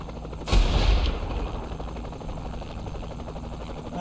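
A sharp burst of gunfire in Saints Row 3 Remastered, loud and close, fading into a quieter game background.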